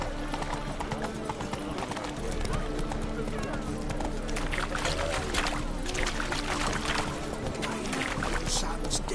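Horse hooves clip-clop steadily in a video game, a rhythmic mid-level beat under a constant bed of game ambience and music, with voices talking over it throughout.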